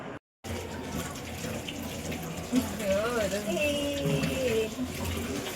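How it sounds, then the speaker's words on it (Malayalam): Water runs steadily from an open tap, a continuous close gushing stream after a brief silence, while someone talks over it in the second half. "ജലം വെറുതെ പാഴാക്കുവാണോ? അടച്ച് പൈപ്പ് അടച്ചേ."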